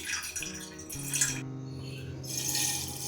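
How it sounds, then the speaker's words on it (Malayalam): About a cup of water is poured into a cooking pot for flax seed and rice, splashing and gurgling with a resonant tone that shifts as the vessel fills, heard close and alone. "1 കപ്പ് വാട്ടർ ഒഴിക്കണം."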